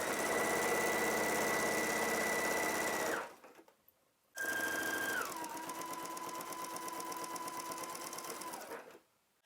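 Sewing machine stitching a waistband seam at a 5/8 seam allowance with a backstitch at the end, running in two steady bursts separated by a short pause, close and loud.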